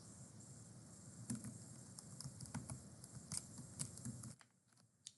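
Light, quick keystrokes tapped on a computer keyboard, faint and close, in irregular bursts over a quiet room hum, with no talking.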